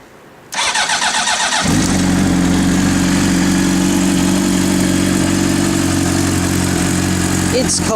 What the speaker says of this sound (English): So let me start the bike and you can hear the sound.